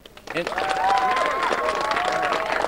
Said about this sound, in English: indicate so by your applause now